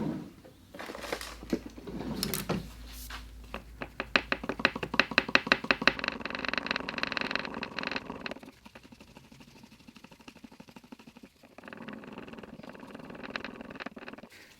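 Two-part epoxy resin, 300 parts A to 100 parts B, being stirred in a mixing container, giving repeated close scraping and tapping strokes that build to a quick rhythm, then thin out into softer, slower stirring.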